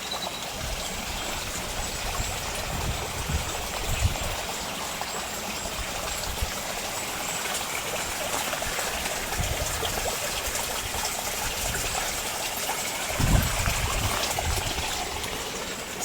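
Water flowing steadily in a stream beneath overhanging laurel branches on a rainy day, a continuous close trickling and gurgling rush with a few soft lower splashes and no voices.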